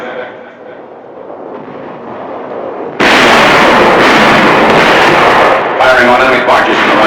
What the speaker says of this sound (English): Firing on enemy barges in the Rhine before Düsseldorf